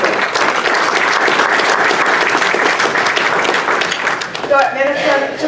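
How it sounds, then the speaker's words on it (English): An awards-ceremony audience breaks into sustained, loud applause, a dense wash of clapping hands that continues for several seconds before a voice begins speaking over its fading tail. "Another round of applause for Minister Beare."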